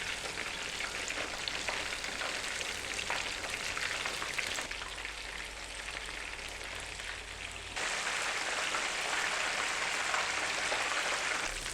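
Fish frying in hot oil over a high flame, a dense, continuous crackling sizzle that stays loud throughout, with a brief dip in intensity midway before swelling again.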